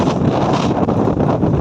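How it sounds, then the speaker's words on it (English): Strong gusty wind buffets the microphone, a loud continuous roar and rumble with no voices. "I do apologise for the wind. It is very windy all of a sudden"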